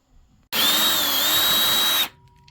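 A power drill whines at high speed for about a second and a half drilling a hole in a pottery wheel, starting and stopping abruptly, loud and close with a steady pitch.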